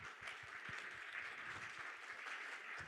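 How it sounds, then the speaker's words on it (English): Faint, steady applause fills a room at a real estate summit in New York City, an even wash of clapping from the crowd that holds at one level throughout. "A round of applause for everybody, please."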